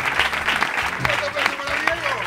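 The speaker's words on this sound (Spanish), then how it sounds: "un aplauso, señor, para Diego" Studio audience applause on a Spanish comedy show, dense and loud throughout, with a voice speaking over the clapping.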